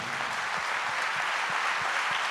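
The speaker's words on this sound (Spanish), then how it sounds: "le doy un aplauso a Él por haberme elegido" A congregation applauding during a church service, with dense, steady clapping that stays loud and unbroken throughout, and no talk audible over it.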